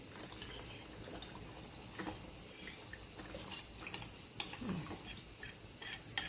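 A flour and hot-water paste is stirred into simmering chicken nehari, with a spoon scraping and clinking softly against the pot in irregular strokes and faint liquid movement, quiet and close, with no voices.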